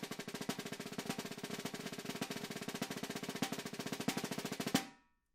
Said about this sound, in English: double strokes with an accented note as a single stroke